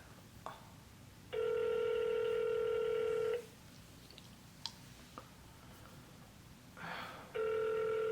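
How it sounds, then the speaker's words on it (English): An outgoing phone call to a medical center gives two long, even ringback tones separated by a quiet pause, heard clearly on the line. "let's phone the doctor then"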